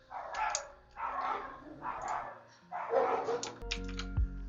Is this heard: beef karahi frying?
no